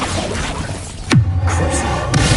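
Bombarda blasting spell cast in the video game Hogwarts Legacy on PS5, a sudden loud burst with a sweeping whoosh that drops into a low rumbling boom, over dense game background noise.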